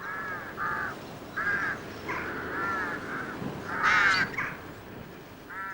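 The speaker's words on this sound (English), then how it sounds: "Calling is an important part of a rook's courtship." Rooks give repeated harsh, rasping caws during courtship in a windy winter rookery, several overlapping calls close by over faint wind.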